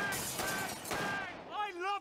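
Rapid gunfire bursts from the Kitchen Gun in a YouTube Poop-style edit of a cleaning-product advert, loud and dense at first, then giving way to a voice speaking near the end.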